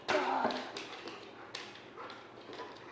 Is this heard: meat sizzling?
no